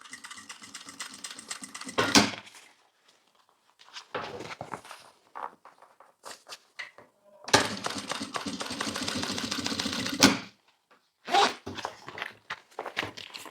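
A sewing machine stitches a notebook bag made with a nylon overlay, running in several bursts of rapid mechanical chatter separated by pauses with light handling noises, close and clear.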